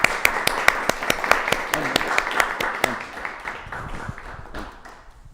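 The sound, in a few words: audience applause for Adnan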